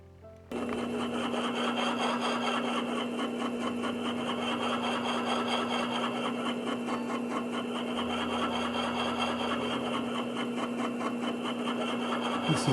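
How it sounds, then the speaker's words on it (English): A helenite gemstone is polished on a motorized darkside lap with cerium oxide on a faceting machine, producing a continuous whirring hum with a steady tonal drone and fine rubbing texture, loud and close without pause. "I'm going to start polishing with a darkside lap and cerium oxide polish"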